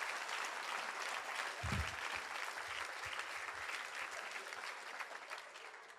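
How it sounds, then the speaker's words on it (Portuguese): Steady applause from a large audience at a youth church congress, a continuous wash of clapping at moderate distance that holds throughout and slowly thins toward the end. "aplauda ele se você quiser aplaudir"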